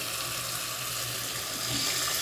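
Water poured into a pot of chicken stew with tomatoes, a continuous rushing splash at close range that swells slightly louder toward the end, with no voices.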